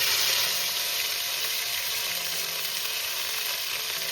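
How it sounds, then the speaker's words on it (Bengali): Ground spice paste made with green and red chilies hits hot oil in a pan for Bengali egg curry, a loud, bright, steady sizzle lasting the whole moment with no voices. "দেখো এবার আমি দিয়ে দিচ্ছি বেটে রাখা মশলা।"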